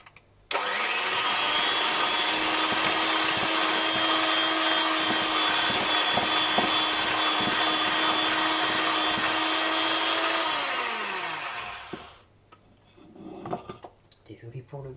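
An old electric mixer whipping soap paste runs as a loud, steady, whining whir for about ten seconds, then winds down and cuts off, leaving faint handling noise.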